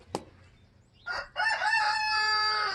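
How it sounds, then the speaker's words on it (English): A rooster crows once, a long loud cock-a-doodle-doo rising and holding, preceded by a short click and a brief squawk. "That is Big Boy, our rooster. He wants to be included in our video today."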